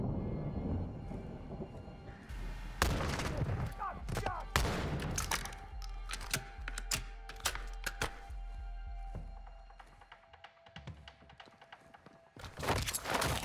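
Gunfire in Call of Duty Modern Warfare 2 (2022): repeated loud, sharp shots and bursts in irregular clusters over a low rumble, with metallic clicks and clatter between the shots.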